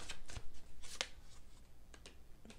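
A deck of tarot cards is shuffled up close and quietly, a few short riffling and slapping bursts spaced out with pauses between them, with no talk over it.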